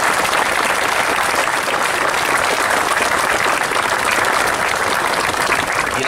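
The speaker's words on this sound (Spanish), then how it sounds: "les pido un fuerte aplauso para ese cargo" Steady, loud applause from an audience at an anniversary speech by a mayor, continuous dense clapping throughout with no talk over it.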